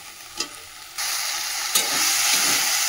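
Spice paste frying and being stirred in a hot pan, a steady sizzle that jumps louder about a second in, with scraping stir strokes, close and with no talk.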